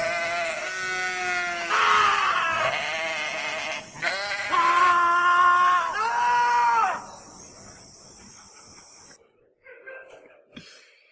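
Goats bleating loudly and close, several long wavering calls one after another, then trailing off into quieter scattered sounds near the end.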